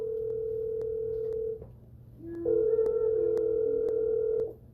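A phone line tone rings out steadily and loud, pauses briefly, then a second, dual-pitched tone with small clicks continues as a call is placed.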